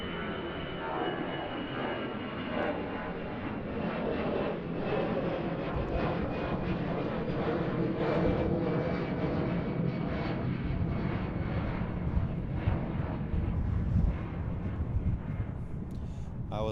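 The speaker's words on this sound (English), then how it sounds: "EasyJet in the background, taking off." EasyJet airliner taking off on the Kaagbaan runway at Schiphol Airport, Amsterdam, on a windy day: a broad, rumbling jet-engine roar, continuous and fairly loud, swelling slightly midway, with wind buffeting the microphone.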